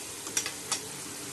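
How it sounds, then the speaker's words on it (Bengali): Masala fries in hot oil that spits and splatters, a faint steady sizzle broken by two or three quick sharp crackles close by, with no voices. "দেখতে পাচ্ছেন তেল ছুড়ে ছুড়ে আসছে মশলার থেকে"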